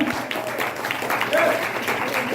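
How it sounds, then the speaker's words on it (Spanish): Church congregation claps during a Spanish-language sermon, a moderate, continuous patter of many hands with brief tonal cries or voices rising over it. "dale un aplauso al Señor"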